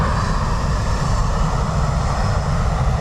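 A Ryanair airliner passes at Dublin Airport on a crosswind day, its engines giving a steady, loud, broadband roar that holds for the full stretch with no voices.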